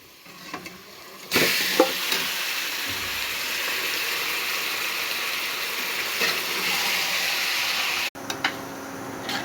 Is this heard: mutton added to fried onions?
yes